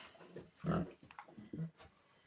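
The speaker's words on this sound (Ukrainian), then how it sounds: "Ось такі свинюшечки в нас. Такі поросятки." Day-old piglets in a farrowing pen grunt and squeal softly, a few short low oinks and snuffles close by, fairly quiet and irregular.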